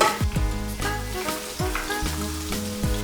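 Battered fish pieces frying in hot oil for a Cantonese crispy fish, a loud continuous crackling sizzle with bubbling pops, close up and unbroken, no voices.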